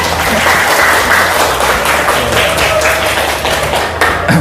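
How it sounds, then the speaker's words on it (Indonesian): A class of teacher-training students applauds together, a loud, dense, steady clapping that fills the room for several seconds without any talk over it. "Bagus, ya, tepuk tangan."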